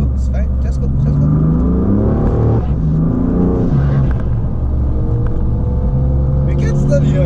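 A turbocharged BMW M3 revs and accelerates with a loud, continuous rumbling growl heard from close by, while people talk over the engine noise throughout.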